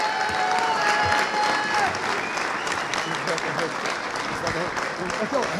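An audience applauds warmly as the Salming brothers, hockey players, come up on stage at a live studio event, a dense sustained clapping crowd close by with some cheering and voices mixed in.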